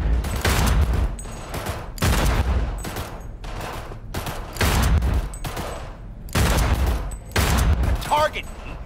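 Rhythmic volleys of gunshots fired at shooting-range targets in Cyberpunk 2077, about seven loud cracking bursts roughly a second apart, with brief voices in between.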